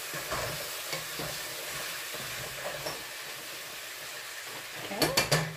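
Chicken sizzles quietly as it fries in a pan, with occasional utensil scrapes from stirring, and a few louder clatters at the end.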